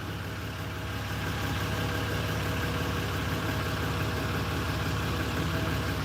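Outside a window during a car tow, a car engine idles with a faint, steady low hum and slight vibration that continues without a break.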